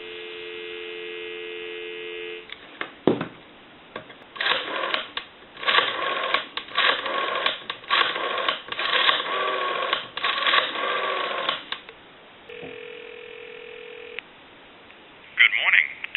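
A steady dial tone from a Western Electric 302 desk telephone, then a run of keypad dialing tones and clicks, followed by another tone and a short beep.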